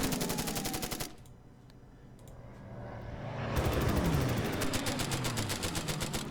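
Machine gun fire in the Order of Battle World War II air combat game, Battle of Britain, with rapid rattling bursts at the start and again later, a quieter rumbling lull between, no talk.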